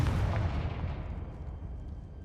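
A Confringo spell from Hogwarts Legacy goes off as a heavy, deep blast at the very start and then rumbles away over about two seconds, with no voices over it.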